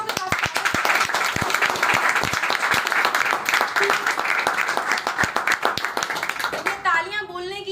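Audience applause erupts loudly at an event, dense clapping holding steady for several seconds before a voice briefly cuts in at the end.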